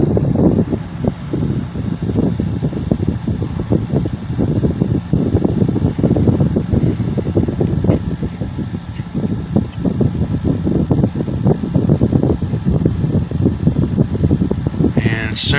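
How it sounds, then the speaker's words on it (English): A Kenmore heating and air-conditioning unit runs at its spring start-up, giving a steady, loud broadband hum with fan-like whooshing that holds throughout, with some rumble and gusty texture mixed in. "So that's the air conditioner"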